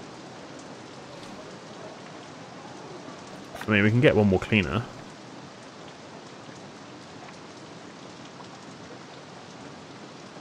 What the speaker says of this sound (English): There comes the rain.